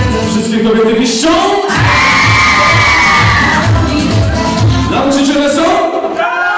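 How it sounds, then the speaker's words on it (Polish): A crowd of women squeals and shrieks together in a loud, sustained burst at a group event, with rising and falling voices over a busy background of chatter. "Wszystkie kobiety piszczą?"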